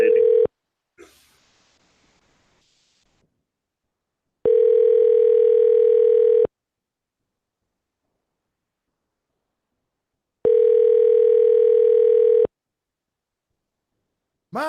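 A telephone line gives its ringing tone while a call goes unanswered: two long steady tones about two seconds each, spaced far apart, with a brief rustle and silence between, loud and alone.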